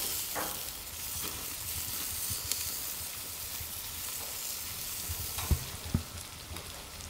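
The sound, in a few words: meat sizzling in a pan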